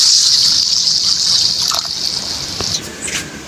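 Water poured steadily onto a pork leg in a cooking pot, a continuous close splashing stream that tapers off and ends with a few small drips.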